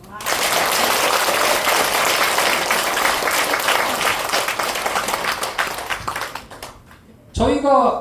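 Strong audience applause at a Korean bio-science seminar, a dense, loud roar of clapping that thins and tapers near the end before a speaker's voice cuts in.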